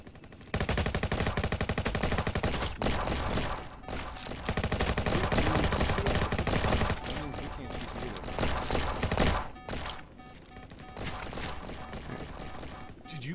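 Rapid bursts of automatic gunfire from the Roblox game Jailbreak, loud and nearly continuous in dense volleys with short gaps, with a voice talking over the shooting at times.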